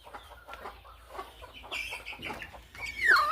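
A country hen settled on her eggs to brood clucks in short, irregular bursts at close range, with a brief high squeal near the end.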